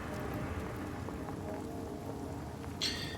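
Rain falls in the fantasy role-playing game Divinity: Original Sin, a steady dense hiss of drops throughout, with a brief bright chirp near the end.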